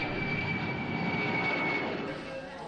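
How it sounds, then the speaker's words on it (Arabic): A military air force aircraft used for transporting patients gives a steady, fairly loud engine drone with a sustained high whine, easing slightly toward the end. "طائرات القوات الجوية جندت لنقل أعداد منهم إلى مدن مجاورة"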